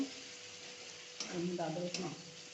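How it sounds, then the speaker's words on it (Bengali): Onion and tomato frying in a pan for a fish-head mung dal, a steady close sizzle that swells with louder stirring scrapes and bursts midway, no talk. "এই টমেটো পেঁয়াজ ভাজা হয়ে এসছে"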